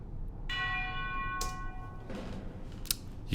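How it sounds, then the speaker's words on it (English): A single bright tubular bell stroke rings out and decays with a shimmering sustain, followed by a few light clicks and a soft tap. "I think there's a tubular bell here."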